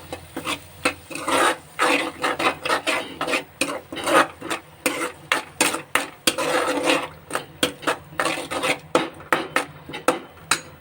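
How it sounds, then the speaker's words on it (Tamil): A spatula stirs and scrapes egg in a pan while it is lightly sautéed, giving steady rhythmic rasping strokes, close and fairly loud, repeated throughout with no talk. "இப்படியே கிண்டி விடுங்க கரெக்டாக வரும்"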